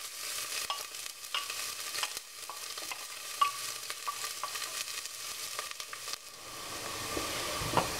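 Onion frying in oil in a big pot, a quiet crackling sizzle broken up by frequent scraping stirs and clinks of the spoon against the pot, with the sizzle easing near the end.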